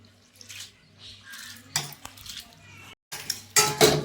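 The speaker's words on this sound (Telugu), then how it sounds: "ఇప్పుడు వీటిల్లో శుభ్రంగా అటుకులు కడుక్కున్నామండి. వాటర్ పోసేసి అటుకుల్లో ఉన్న మురికి గిరికి ఉన్నా పోతుంది" Flattened rice (poha) being washed in a bowl, with splashes and pours of water, clinks of a metal vessel and handling noises in uneven bursts, close by; no speech.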